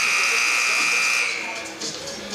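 A buzzer sounds at a high school all-star basketball event: a loud, steady, harsh electronic tone holds for just over a second and then fades into gym noise.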